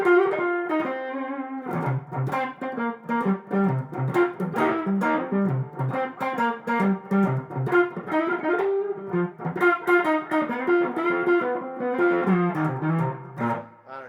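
A Collings I35LC electric guitar with a thick, distorted tone plays a busy run of notes and chords, up close with no voices.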